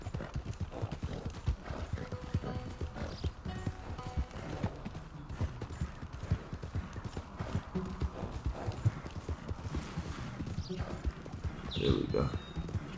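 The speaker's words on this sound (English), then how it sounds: "we still had a bit of horse riding to do" Steady clip-clop of horse hooves galloping at a quick rhythm in Red Dead Redemption 2, with a brief whinny near the end and some talking mixed in.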